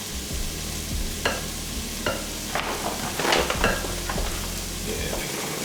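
A cup of flour folded into a thick batter, giving a continuous wet scraping and stirring against a bowl, with a few louder swishes and soft knocks over a steady background hiss.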